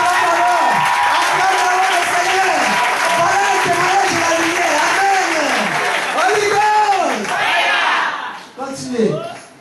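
A church congregation applauds and cheers in praise of the Lord: a loud, continuous wash of clapping and crowd noise with many voices calling out over it, fading near the end.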